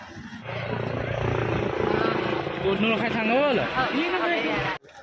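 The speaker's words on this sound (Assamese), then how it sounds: "হেলিকপ্টাৰ আহি পাই গ'ল" A helicopter's rotor thrum drones steadily nearby as it arrives at a village, while a crowd talks and shouts loudly over it.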